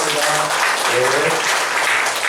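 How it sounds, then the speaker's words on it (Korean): A church congregation at a Sunday worship service applauds in blessing, a continuous dense round of clapping with voices mingled in underneath. "우리 한 번 더 뜨거운 박수로 축복합니다."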